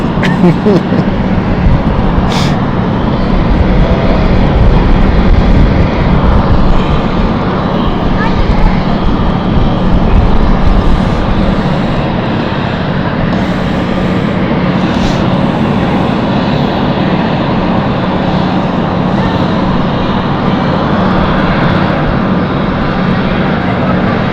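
A fixed-wing airplane passes near London City Airport, a steady broad engine roar that holds loud and fairly constant throughout, with a faint voice now and then underneath.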